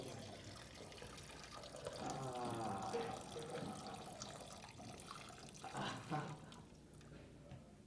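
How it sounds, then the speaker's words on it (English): A man urinates into a urinal in a smelly high school restroom, a steady liquid trickle and splash running for several seconds with a brief louder burst near the end, while other people talk in the background. "how is it taking a piss in here?"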